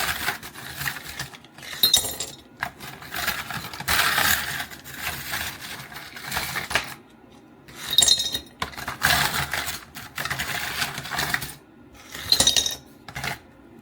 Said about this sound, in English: I fill a glass with ice.